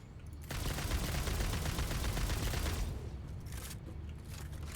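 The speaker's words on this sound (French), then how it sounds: "fusil avec des têtes chercheuses" Homing rifle firing in the Satisfactory video game, a rapid burst of gunfire that rattles on steadily for about two and a half seconds, then tails off into scattered fainter impacts.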